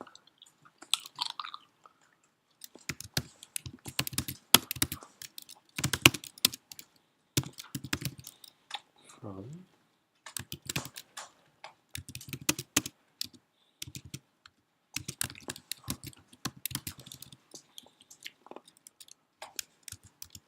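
Bursts of typing on a computer keyboard during a programming lab session, quick clustered clicks near the mic broken by short pauses, with no talking.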